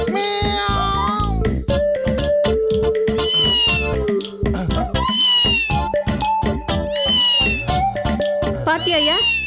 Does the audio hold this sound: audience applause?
no